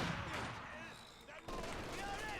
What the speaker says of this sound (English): Grenadiers opening fire from afar with Panzergrenadiers